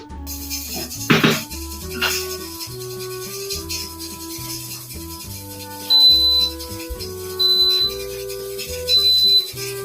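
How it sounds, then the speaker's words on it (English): A pressure canner beeps three times when canning chicken stock is done, in a clear, high, evenly spaced pattern, each tone short and steady over a quiet electronic background. "We're beeping. So that means the actual canning process is done."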